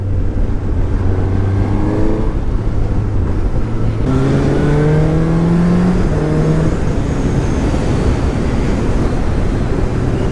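A 2017 Suzuki GSX-S750 inline-four motorcycle drones loudly while ridden in third gear around 4,000 RPM, the engine note rising steadily, easing briefly, then climbing again over constant wind roar.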